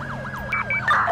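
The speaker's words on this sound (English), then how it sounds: "we're chasing this ambulance right now" An ambulance siren wailing in GTA 5, loud and close, with rapid rising and falling sweeps cycling several times in quick succession, joined at the end by brighter warbling tones.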